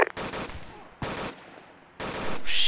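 Gunfire in the military game Arma II: three separate loud bursts of rapid automatic shots, each about a fifth of a second long, spaced roughly a second apart, with a high hiss rising at the end.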